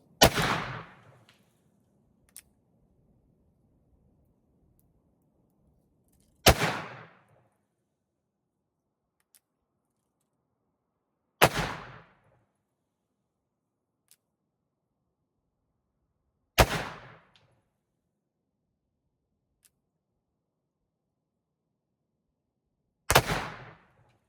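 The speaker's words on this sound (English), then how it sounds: "I'm going to shoot into some boards and see if we can catch any of these soft round balls." Cap and ball revolver fired into wooden boards, five loud sharp shots spaced about five seconds apart, each decaying quickly into near silence between them.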